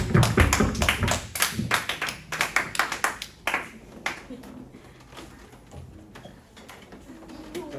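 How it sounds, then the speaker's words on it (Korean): Brief burst of clapping from a youth congregation at a Sunday church service, crisp and close at first, then thinning to a few scattered taps and claps as the room settles. "박수"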